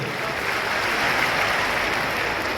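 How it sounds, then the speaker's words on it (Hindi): A large crowd at a political gathering honoring a state party president applauds in a continuous, dense wash of clapping, steady and loud from start to finish, with no distinct voices. "जोरदार तालियां बजाओ हमारे प्रदेश अध्यक्ष जी के लिए।"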